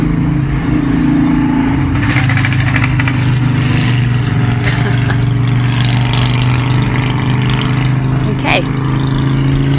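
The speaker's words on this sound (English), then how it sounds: "Can that motorbike just move on?" A motorbike passes close by outdoors, its engine a loud steady drone that rises and lingers, with a person talking briefly over it.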